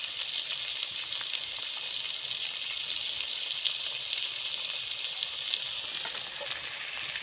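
Ghugni ingredients with salt and turmeric fry in a pan, a soft continuous sizzle with faint scraping of stirring running evenly throughout.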